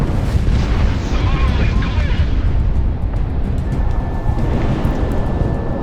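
Missile explosions boom and roar continuously in the Project Wingman flight combat game, a dense, loud rumble of blasts with no pause, with a thin high tone creeping in toward the end.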